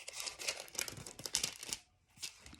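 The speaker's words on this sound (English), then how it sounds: "page turn." A book page turning, a crisp rustling crinkle of paper lasting over a second, then a brief pause and a shorter second rustle, close and clear.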